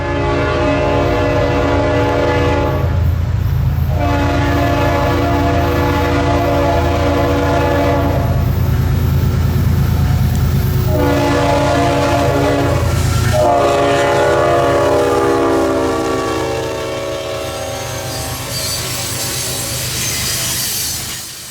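CSX freight train Q453 passes close by on the Florida S-Line as locomotive 3194, the "Spirit of Our Law Enforcement", sounds long, loud horn blasts in several sequences over a continuous engine rumble and rolling wheels.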